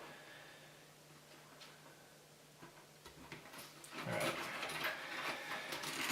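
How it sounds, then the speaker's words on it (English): Nylon PC cables rub and brush against one another inside a computer case during a build, a faint scratchy rustle that grows louder and denser in the second half. "All these nylon cables touching each other."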